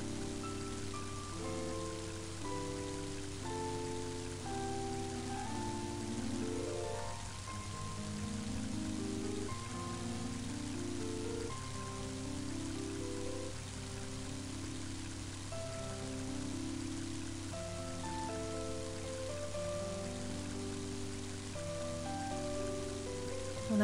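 Steady rainfall in the game Mother 3 patters evenly throughout, blending with a looping melodic soundtrack at a moderate level.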